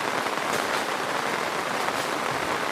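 Steady rain falls outdoors during a village cleanup drive in Kandiyala panchayat, a dense, continuous hiss of drops on surfaces filling the whole stretch with no voices.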